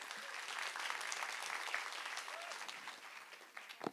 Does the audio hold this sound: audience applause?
yes